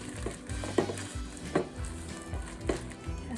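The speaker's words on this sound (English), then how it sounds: "So first I just mix the meat together with seasonings." Ground pork is worked together with seasonings in a bowl for Chinese dumplings. Regular squelching strokes repeat about once a second, close and steady, with a low background hum.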